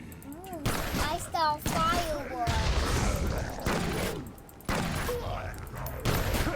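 Fireworks in Secret World Legends go off as a run of sharp bursts and crackling booms, with whistling rises and a voice talking between them.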